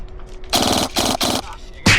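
Airsoft guns fire in three quick bursts of rapid shots during a King of the Hill skirmish, followed by one more sharp shot at the end, loud and close, with faint background noise between.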